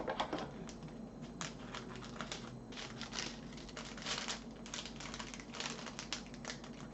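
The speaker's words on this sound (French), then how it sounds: "On va couper les sachets." Plastic sachets of diamond painting beads being cut open with small crinkly snips and rustles, steady and close with no talking.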